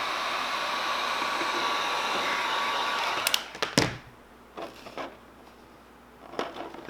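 A heat gun blows a steady, loud hiss while heating a decal wrap on a Traxxas Maxx 4S RC car, then cuts off, leaving a few close clicks and handling taps.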